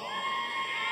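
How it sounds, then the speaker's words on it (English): A convention panel audience cheers and shouts in a steady, dense wash of crowd noise, loud and sustained for about a second with no single voice standing out. "Why are you cheering?"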